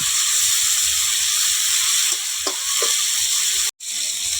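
Shrimp lightly frying in a pan of hot oil, a steady close sizzle running throughout with a few soft stirring clinks, cut off briefly near the end.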